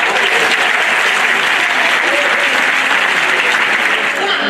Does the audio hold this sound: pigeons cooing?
no